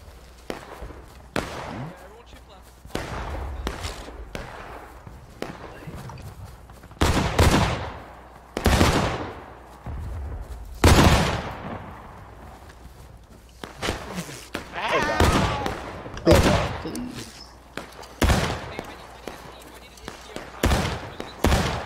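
Musket volleys crack out in War of Rights, a Civil War era game, with a string of loud, sharp shots, some single and some clustered, spread across the clip at varying distances, while players talk in between.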